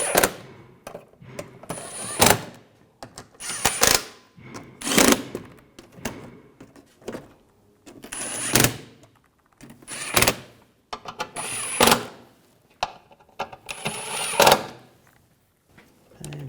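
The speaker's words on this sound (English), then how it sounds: "Tighten down the Phillips head screws up front." Phillips head screws being tightened on the transmission pan of a 2009–2010 BMW 535i xDriveClip, sharp metallic clicks and ratcheting taps in repeated clusters with short pauses between, close and fairly crisp.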